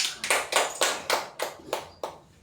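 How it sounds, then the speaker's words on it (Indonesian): A small group in a classroom claps for a pupil named Fitra after a multiplication answer, about seven sharp, evenly spaced claps in a brisk rhythm, close and clear. "tepuk tangan untuk Fitra"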